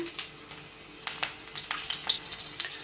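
Slit green chillies and cumin seeds sizzle in hot oil in a pan, a soft steady frying hiss broken by scattered small crackles and pops, close by and alone.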